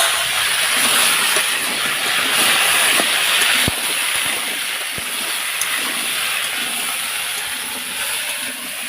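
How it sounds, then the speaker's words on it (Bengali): Cut home-grown taro corms drop into hot oil already tempered with whole cumin seeds for a fish curry, giving a loud, steady sizzling hiss with scattered small pops and crackles throughout. "এবার কেটে রাখা গাঁটি কচুগুলোকে আমরা দিয়ে দেবো।"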